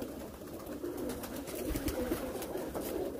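Teddy pigeons coo softly in a loft, a low, faint murmuring that carries on steadily with no talk.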